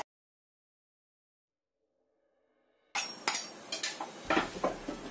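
After a stretch of near silence, a spoon stirs raisins into a dry mixture in a bowl, making close, clattering clinks and scrapes against the bowl in uneven bursts, with no talking.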